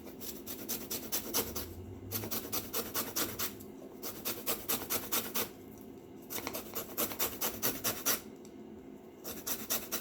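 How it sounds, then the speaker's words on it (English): Steady rhythmic rasping of a whole lemon being grated while it is turned, with repeated close scraping strokes and brief pauses. "We're going to grate lemon."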